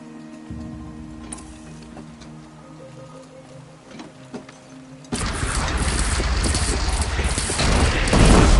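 A cannon fires in a video game about fighting machines: after a quieter stretch, a sudden loud, broad boom erupts and turns into a sustained, rumbling roar of blasts that builds toward the end.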